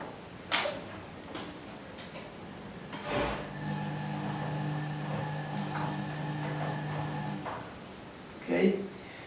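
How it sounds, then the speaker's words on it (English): A door is shut indoors beside a running Ardo washing machine, with a few dull thuds and knocks spaced across several seconds over a steady machine hum and faint background noise. "I'm going to close the door"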